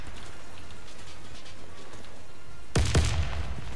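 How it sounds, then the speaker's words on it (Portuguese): A grenade blast in the Warface shooter on the Hangar map: a sudden loud burst near the end, with a second thump after it and rumbling debris, following a few seconds of quiet ambient game noise. "vou jogar uma granada ali"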